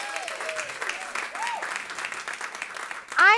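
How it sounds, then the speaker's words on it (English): Audience applause at a Climate Week event with Broadway performers, steady clapping throughout with a few tonal whistles or cheers, swelling louder at the end. "Give them another huge round of applause."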